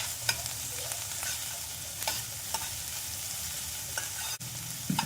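Onion and mixed vegetables sauté over a high flame for Gobi Manchurian, giving a steady close sizzle with a few sharp scrapes and stirring clinks throughout.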